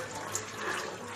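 Water from a tap or jug pours into a pan while a Konkani dish cooks, a short steady splashing trickle up close with no talk over it.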